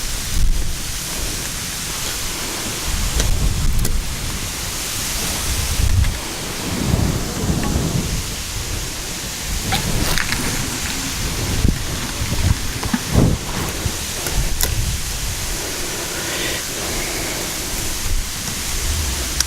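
Strong wind gusting across a lake shore during fishing, a steady rushing roar with heavy low buffeting and irregular bursts throughout, close to the microphone and without voices.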